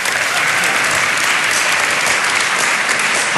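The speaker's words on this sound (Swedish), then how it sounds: "En applåd för David Batra, mina vänner." Loud, dense applause sweeps through the audience at a comedy roast in Stockholm, a thick, steady roar of many hands clapping close by that holds at full strength for the whole stretch, with no one speaking.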